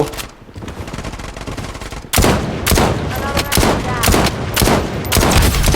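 SVD sniper rifle gunfire in the shooter game Blood Strike: loud, close cracks in rapid succession, starting abruptly after a quieter stretch and repeating every half second or so, with no talking.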